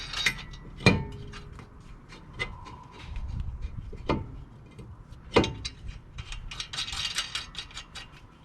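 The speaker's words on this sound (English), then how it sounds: "And I'm going to be putting on 2 bolts just to hold it so it doesn't wobble." Bolts threaded by hand onto a 2016 Mazda 6 front brake rotor to hold it in place, giving a few sharp metallic clicks and ratchet-like clatters spread over several seconds at close range, with no talk.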